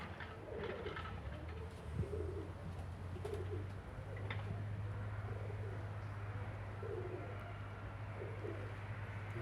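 Soft, low cooing of pigeons repeats throughout, steady and moderately near, over a constant low hum.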